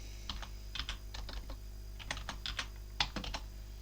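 Keys clatter in quick, uneven bursts as a command is typed on a computer keyboard, close and clear over a low steady hum, with short pauses between clusters of strokes.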